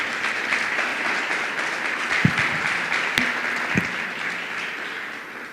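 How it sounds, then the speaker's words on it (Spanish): A congregation applauds the Lord during a Spanish-language church service, sustained crowd clapping with a few louder thuds breaking through near the middle. "Dale un fuerte aplauso al Señor."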